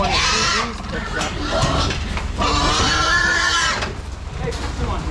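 Pigs being loaded onto a hog trailer, grunting and squealing in rough bursts, close and loud, while a man repeatedly calls to them.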